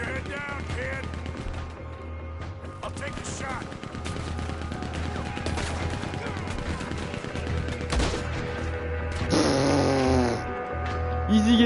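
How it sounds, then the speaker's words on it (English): A Gatling gun fires in Red Dead Redemption 2, a dense, continuous rattle of rapid shots under steady game noise and music, with a louder burst near the end. "ils ont une Gatling"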